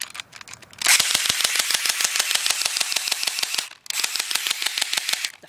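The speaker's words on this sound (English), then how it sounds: "this frickin' thing has to be held down so you can shoot it" A Cybergun airsoft AUG toy gun fires in a rapid, steady stream of close, loud clicking shots, one long burst followed by a brief pause and a second burst.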